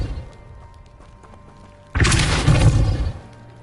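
A sudden booming blast from the Confringo spell in Hogwarts Legacy bursts in after a quiet stretch and rumbles for about a second before fading.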